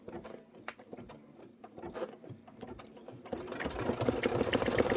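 A sewing machine stitches down green appliqué vines on a fabric pumpkin project, running in a steady rapid mechanical chatter that grows louder and denser toward the end.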